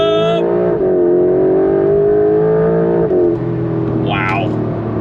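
A 2025 Porsche 911 Carrera GTS sports car engine pulls hard under throttle, a loud, steady rising drone with one brief gear-change dip midway and a short voice breaking in near the end.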